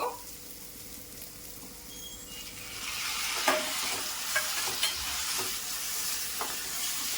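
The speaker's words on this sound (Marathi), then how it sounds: "टोमॅटो सुद्धा मी फ्राय करून घेणार आहे कांदा आणि आलं लसणाच्या पेस्ट मध्ये।" Tomatoes fry in onion and ginger-garlic paste for a dry prawn masala, a soft sizzle that swells after a few seconds into a louder crackle with occasional stirring scrapes and spoon taps.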